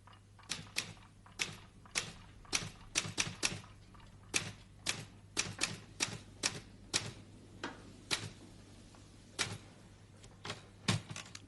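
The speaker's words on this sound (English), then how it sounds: "This machine makes a noise too. Do you know what it's called? It's called a typewriter." Typing on a typewriter rattles out as sharp, irregular clacks in quick bursts and short pauses, crisp and close, continuing for several seconds with no voices.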